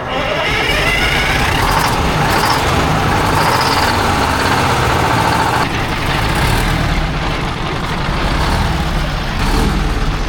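A rare 1972 Diamond Reo truck's straight-piped V8, revived after sitting 20 years, idles loud and close with a rough, surging rumble that rises and dips throughout.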